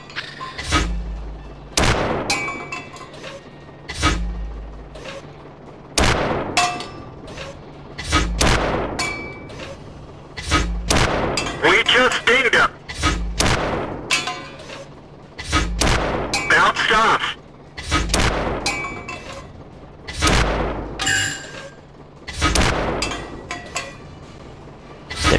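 Tank cannon fire in World of Tanks, including a 47 mm gun: repeated loud booming shots every couple of seconds throughout, sharp cracks with rumbling tails, with a voice talking over the battle.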